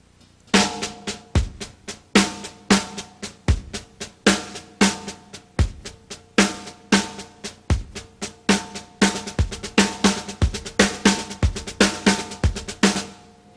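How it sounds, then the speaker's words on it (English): A drum kit plays a steady groove with crisp, evenly repeating hits, and some accents are shifted onto the bass drum, which gives deep punchy thumps under the sharper strokes. It is close, loud and played alone with no voices. "I'll displace one of my accents with the bass drum,"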